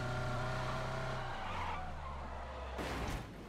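A car drifts in a video game with a loud tire skid and squeal over a revving engine, then a short burst of scraping noise near the end.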